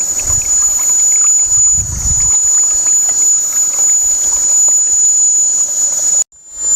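A centrifuge wax melter running as a steam-fed wax melter gives off a steady high hiss with low rumbling bursts early on, continuing evenly before cutting off abruptly near the end.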